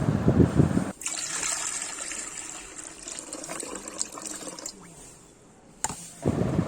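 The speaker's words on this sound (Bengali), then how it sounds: "চালটা আমার একবার ধোয়া হয়ে গেল আমি আরেকবার ধুয়ে নেবো" Rice being rinsed in a bowl of water, giving a steady, close splashing and swishing for several seconds, framed by brief quieter sounds at the start and end.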